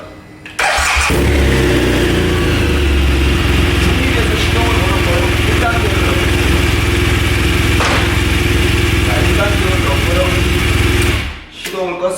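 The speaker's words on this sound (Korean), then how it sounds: "클러치 센서 교체가 끝났습니다 자 한번 시동을 걸어보겠습니다" A BMW R1200GS LC motorcycle, just fitted with a new clutch sensor, cranks and starts, then runs at a loud, steady idle close by for about ten seconds before shutting off.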